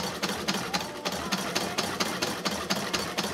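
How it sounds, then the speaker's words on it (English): Steady rhythmic clatter of a hand-cranked sewing machine, rapid regular stitching beats running continuously at close range. "This is a hand crank sewing machine."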